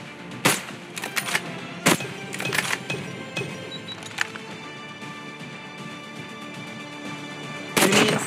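Gunfire in the mobile shooter Call of Duty Mobile during a ranked multiplayer match, with sharp repeated shots and short bursts scattered across the clip, including a loud cluster near the start and another at the very end.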